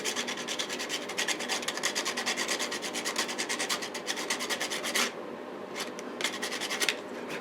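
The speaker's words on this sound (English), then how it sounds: "I'm just going to use a little bit of sandpaper just to, you can see there, just get it sharpened" Sandpaper rubbed quickly back and forth against a watercolour brush tip to sharpen it: a close, fast rhythmic scratchy rasp of short strokes, briefly pausing before a few last scrapes.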